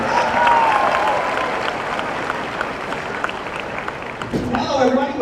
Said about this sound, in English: how about a round of applause for the President's Choice Super Dogs?